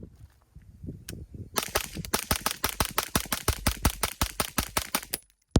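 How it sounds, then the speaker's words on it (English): A CZ Scorpion fires a rapid string of about thirty sharp, evenly spaced shots in one continuous magazine dump, loud and close, after a few quieter handling sounds and a short pause. "The CZ Scorpion. and a mag dump."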